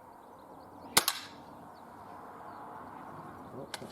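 A Benjamin Trail NP MK2 air pistol fires a single sharp crack at a 10 metre target, followed by a quieter click a few seconds later, near and loud against a quiet room.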